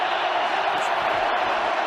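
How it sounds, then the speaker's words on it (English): A football stadium crowd cheers in a steady, loud roar of many voices that holds evenly throughout, with no single voice standing out. "The crowd alive and back into it."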